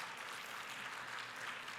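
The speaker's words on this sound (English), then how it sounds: "our students, a big round of applause" Faint round of applause from an audience at a youth academic competition, a soft, even spatter of clapping heard from a distance with no voices over it.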